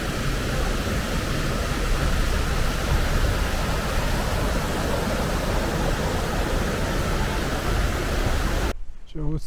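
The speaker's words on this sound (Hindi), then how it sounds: "ये आप स्ट्रीम देख रहे हैं और यहाँ से ये पानी आ रहा है जो बेसिकली इस लेक के अंदर से आ रहा है" A stream fed from Loch Skeen near the Grey Mare's Tail waterfall in Scotland rushes close by, a loud and steady broadband water roar that cuts off abruptly near the end.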